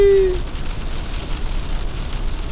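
Rain drums steadily on the windshield of a moving car, a dense, loud, even wash of droplets that carries on throughout. A brief tonal whine sounds at the very start.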